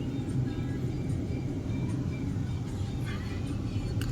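Steady traffic of cars passing at Pasar Borong Nilai 3 wholesale market around midday, a continuous low engine rumble with a vehicle approaching and swishing by, moderately near.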